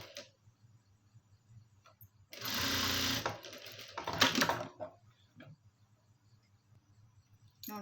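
A sewing machine stitches folded fabric piping in one short burst of rapid whirring, then a few quieter stitches, with faint ticking and handling noise in an otherwise quiet room.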